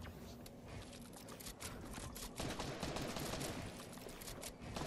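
Dense, continuous gunfire from a Fortnite Chapter 2 Season 8 match, with rapid overlapping shots sustained throughout and a louder burst partway through.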